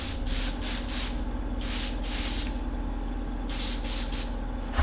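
An airbrush flushed by spraying cleaner through it, a series of sharp hissing bursts, several quick pulses followed by longer blasts with short pauses between, close and alone.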